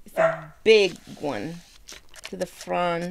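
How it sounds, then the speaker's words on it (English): A pet dog barks in a few short, close bursts indoors, mixed with a person talking nearby. "that's my dog."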